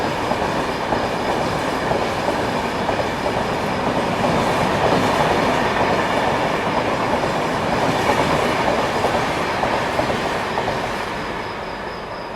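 Darshan Express, running from Delhi Hazrat Nizamuddin to Pune, heard from on board or close by: a steady, loud roar of wheels on rails with rhythmic clatter and faint squeal, easing slightly at the end, with no talking.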